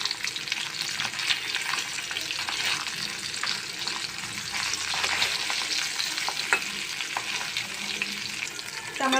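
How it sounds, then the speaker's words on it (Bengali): Small river hilsa coated in turmeric and chili frying in hot oil, a continuous close sizzle full of crackles and spits. "তো আমার মাছগুলো ভাজা হয়ে গেছে"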